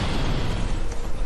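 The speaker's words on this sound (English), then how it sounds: "A calm holiday weekend is shattered by a devastating explosion." An explosion sound effect depicts the 1986 Cerritos mid-air plane collision over a Los Angeles neighborhood: a dense, loud, roaring blast that fills the whole brief moment, with no speech.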